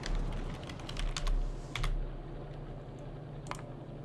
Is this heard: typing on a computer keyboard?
yes